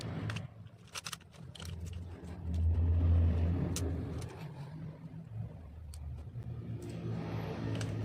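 A small Tamiya mini 4WD car's greased electric motor whirs with a low steady hum that swells briefly in the middle, accompanied by faint clicks and scrapes, close but quiet, with no talking.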